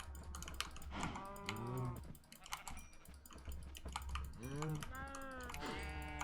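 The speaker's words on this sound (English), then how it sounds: "Feed all the moo-moos." Cows in the video game Minecraft moo in drawn-out, pitch-bending calls, two clear moos a few seconds apart, heard over steady keyboard typing and clicks while someone talks.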